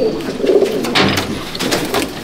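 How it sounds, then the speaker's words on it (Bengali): A pair of pigeons in a loft coo loudly and close, with low rolling calls swelling and fading in quick succession and a brief bright noise partway through. "এই যে ইকবালদার ঘরে আরেক জোড়া পায়রা"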